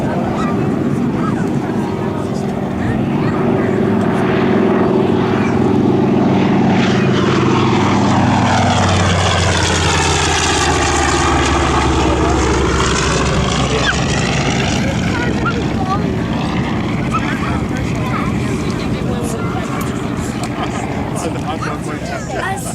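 A TBM Avenger propeller aircraft makes an airshow demonstration pass at an Air National Guard open house, its engine roar swelling loud as it nears, then sweeping past with a falling pitch and fading under a continuous rumble.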